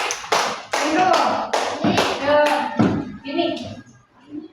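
A primary classroom claps together in praise of a pupil, several bursts of rhythmic group clapping close by, blended with children's voices, easing off before a brief tap at the end.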